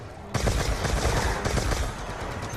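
A ray gun fires in a Call of Duty zombies match, a dense rapid burst of loud crackling shots starting abruptly and running for about two seconds before easing off.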